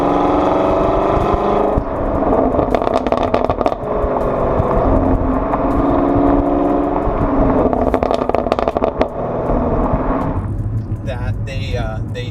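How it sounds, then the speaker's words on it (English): A 2021+ Chevrolet Camaro SS 1LE with dual mode exhaust rumbles loudly and steadily up close, with scattered sharp crackles and pops through it, while someone talks over the engine noise. "the snap, crackles, and pops, you know, the Rice Krispies of the exhaust"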